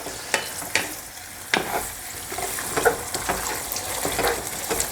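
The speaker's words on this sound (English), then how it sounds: "just continue to kind of stir this for, like I say, we're going to give it 2 minutes." Spaghetti cooking in red wine is stirred in a pan, giving scraping, clinking stir strokes at irregular intervals over a steady soft sizzle, close up with no talking.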